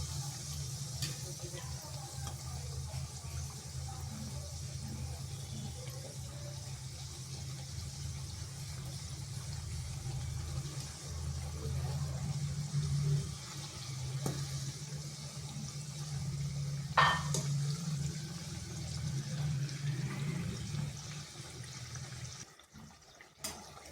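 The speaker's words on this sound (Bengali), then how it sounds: "এইভাবে নেড়ে চেড়ে উল্টে পাল্টে ভেজে নিচ্ছি।" Round aloo suji snacks fry in hot oil in a wok while being stirred and flipped, giving a steady, close bubbling sizzle that runs throughout, with occasional scrapes and a voice talking quietly underneath.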